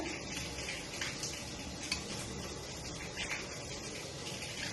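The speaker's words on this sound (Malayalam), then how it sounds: "ഇനി അടുത്ത് ഞാൻ എഗ്ഗ് ഒഴിച്ചു കൊടുക്കുകയാണ്" Egg poured into a hot pan and cooking, a soft continuous sizzle with faint bubbling and occasional light knocks, quiet and close.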